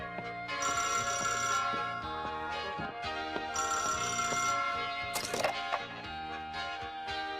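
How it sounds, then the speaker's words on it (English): A telephone bell rings in repeated bursts, loud and close, with a busy ringing tone filling the whole stretch and no talking. "can't get anything done with the phone ringing all the time"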